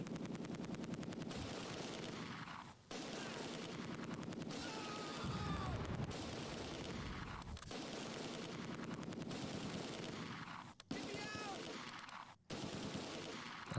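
Mortar blasts and gunfire from the Close Combat 2 war game, a dense, continuous stretch of battle noise with repeated bursts and a few sharp drops into brief silence, with a voice at times underneath.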